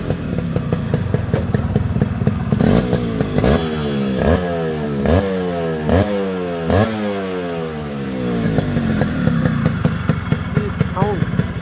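A Yamaha RX 100 motorcycle, the last model sold in Bangladesh, roars close by as its engine idles and then revs hard in repeated rising and falling sweeps, with sharp throttle blips in between.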